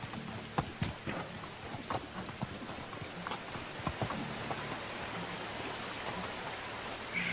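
Horse hooves clip-clop at an uneven walking pace on uneven ground in the video game Medieval Dynasty, soft and fairly quiet over a steady hiss of background ambience.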